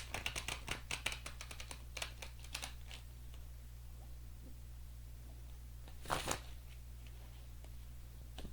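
Tarot cards shuffled in quick, crisp riffles and flicks, a busy burst of card noise early on, then a quieter stretch and a brief flurry again near the end, close up over a steady low hum.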